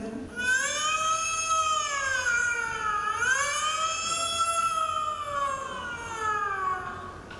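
A voice imitates a police jeep siren, rising and falling in long sweeping tones, loud and close, held continuously for several seconds.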